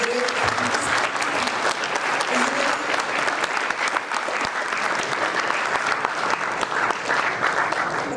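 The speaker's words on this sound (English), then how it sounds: "please give a big round of applause" An audience at a US lecture event gives a big, sustained round of applause, dense and even for several seconds, with faint voices mixed into the clapping.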